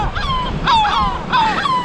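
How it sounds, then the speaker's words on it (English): Seagulls on the Algarve coast give three loud, harsh calls close by, each a descending squawk, spaced about half a second apart with faint wind behind them. "What is wrong with these seagulls?"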